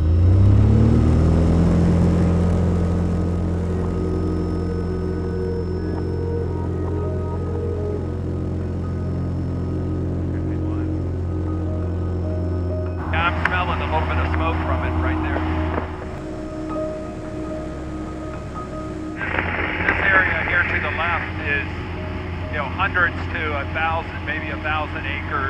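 A small airplane's engine drones steadily with strong harmonic tones while preparing to take off, with radio-style voices breaking in over the continuous engine noise.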